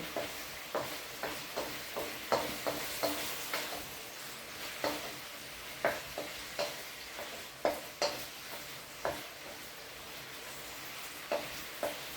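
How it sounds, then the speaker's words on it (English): Marinated beef with sauce sizzles in a hot pan, a steady frying hiss punctuated by regular scraping stirs, close and moderately loud with no talk. "Because of the high temperature, the beef is going to cook very quickly"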